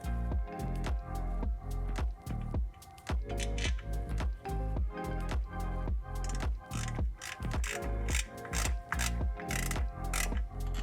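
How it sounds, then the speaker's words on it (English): Steady, rhythmic clicking of a ratchet driving M6x25 bolts into the oil pan of a BMW S54 engine, near and continuous with repeated quick strokes and no talking. "Next up, we're installing the M6x25 bolts."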